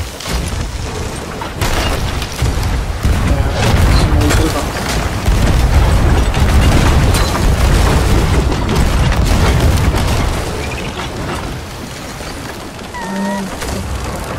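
Ship cannons fire in an online naval video game, heavy booms landing in quick, irregular volleys that build into a dense, rumbling barrage, while players talk over the gunfire.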